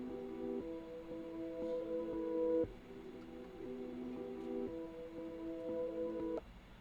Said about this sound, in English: I think it was a violin, and this is how it sounds.